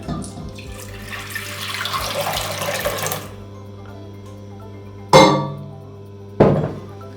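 Milk is poured from a one-litre carton into a cooking pot for a Turkish keşkül milk pudding, a steady liquid pour lasting about three seconds, followed by two sharp knocks or clinks of kitchen utensils.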